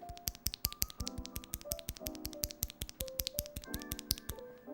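Close typing on an Epomaker GK68XS keyboard fitted with stock, unlubed Gateron Pro White switches, giving a steady, fairly fast run of crisp individual keystroke clacks with no talk over them.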